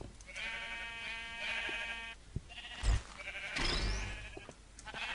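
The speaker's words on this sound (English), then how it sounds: "I have a cyan sheep right there" A cyan sheep bleats in a Minecraft modpack game, two drawn-out wavering calls followed by a couple of shorter ones, clear and close with no talk over them.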